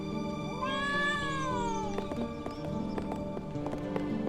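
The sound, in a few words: cat meowing in video game Trials of Mana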